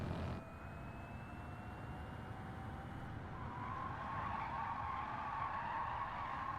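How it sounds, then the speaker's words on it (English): Tyres squeal during a Gran Turismo race, a sustained, fairly faint screech layered over a steady rushing car noise, with no talk. "Most of what you can hear is the tyre squealing."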